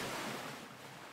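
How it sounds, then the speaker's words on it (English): Ocean surf rolling in on the shore, a broad soft wash of noise that swells and slowly recedes, fairly faint with some wind, no voices. "Got some waves coming in now, of course."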